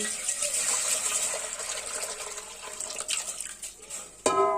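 Water poured over curdled milk strained through a muslin cloth set in a strainer while making rasmalai, a steady splashing gush that runs throughout and ends with a brief clatter.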